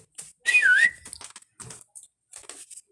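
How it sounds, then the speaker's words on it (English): A short, melodic whistle with a rising-and-falling pitch, followed by a few brief sounds. "As Naruto, he whistles, he says,"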